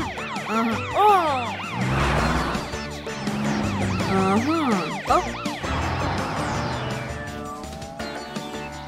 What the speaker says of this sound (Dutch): Gebruik je sirene, zodat het kleintje je kan horen.